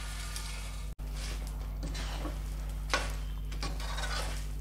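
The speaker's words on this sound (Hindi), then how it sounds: "अब हम इसमें डालेंगे हमारा तला हुआ गोंद" Fried edible gum (gond) tipped into a pan for gond barfi and stirred, giving soft scraping strokes and a light sizzle over a steady low hum, with a brief sharp clink midway.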